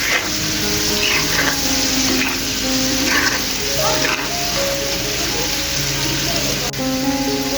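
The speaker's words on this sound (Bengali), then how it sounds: "এখন আমি আরও 2-3 মিনিট রান্না করে নেব, আর বারবার এভাবে নাড়াচাড়া করে দেব, তা না হলে নিচে রসুনগুলো পুড়ে যেতে পারে" Garlic cooking in a pan for a spicy garlic pickle, stirred repeatedly so it won't burn at the bottom, giving a steady soft sizzle with scraping stir sounds, continuous and close, with faint tonal background hum.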